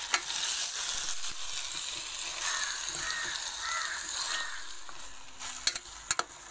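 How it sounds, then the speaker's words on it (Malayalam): Marinated chicken stirred into sautéed onions in a pan for a Lucknowi biriyani, a continuous frying sizzle with stirring scrapes and a few sharp clinks toward the end, without speech. "മാരിനേറ്റ് ചെയ്ത് വെച്ചിരിക്കുന്ന ചിക്കൻ ചേർക്കുക. എന്നിട്ട് നന്നായിട്ടൊന്ന് ഇളക്കി യോജിപ്പിക്കുക."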